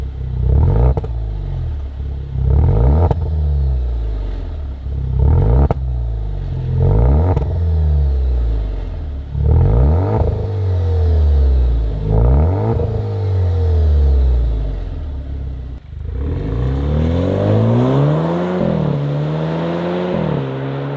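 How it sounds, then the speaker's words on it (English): An Alfa Romeo Giulia with a Vibrant 10633 muffler replacing the factory unit blips its engine about seven times in a steady rhythm, each rev rising and falling loudly, then one longer, higher rev to close. "all I did was replace the factory muffler with a Vibrant 10633 muffler"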